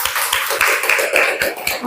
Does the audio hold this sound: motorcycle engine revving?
no